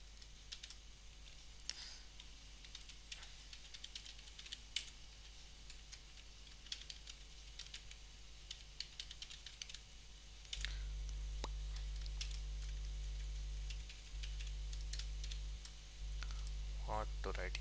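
Scattered keyboard clicks and taps while coding in the Eclipse editor, quiet and close, irregular bursts over a steady low hum, with a louder stretch of background noise toward the end.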